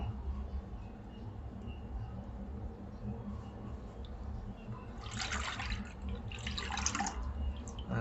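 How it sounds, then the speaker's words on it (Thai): Boxed coconut milk poured into a pot over low heat gives a faint, close liquid splashing and gurgling that comes in two short bursts over a quiet background hum. "ใส่น้ำกะทิเข้าไปเลย เราใช้กะทิกล่องจ้า500 ml"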